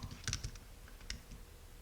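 Typing on a computer keyboard during a word puzzle game: a quick, irregular run of light key clicks, close and fairly soft, with no talk.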